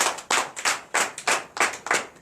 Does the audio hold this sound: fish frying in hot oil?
no